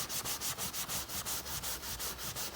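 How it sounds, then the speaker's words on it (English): Rapid, even rubbing strokes as an abrasive pad scrubs the surface coating off a leather sofa, a close, continuous rhythmic scratchy swish with no talking. "You're just going to rub this over the surface like so, and as you're going to remove the surface colour"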